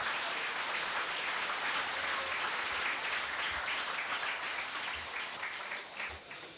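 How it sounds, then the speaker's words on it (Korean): A large crowd at a party officials' meeting applauds a committee chairman with dense, steady clapping throughout that eases off slightly near the end. "우리 임명진 위원장님께 힘찬 박수 드립니다."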